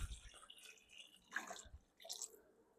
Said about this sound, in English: So I have some water here just in a pitcher. And I'm just going to add this into our mix.